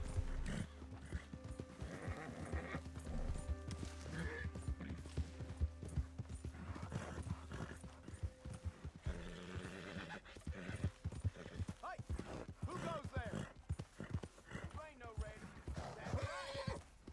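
Hooves of a horse in the video game Red Dead Redemption 2 clip-clop in a steady trotting rhythm, with a whinny and scattered game effects, all under a player chatting throughout.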